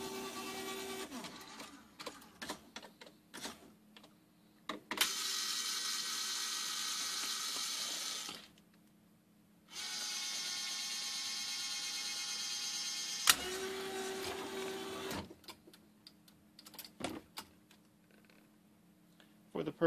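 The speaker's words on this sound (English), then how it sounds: "I'm going to do a few tries with the plush claw and see how that one works" A Greyhound cylinder skill crane with a Sugarloaf base and plush claw whirs in two long, steady motor runs between clicks and short mechanical movements, with quiet stretches in between.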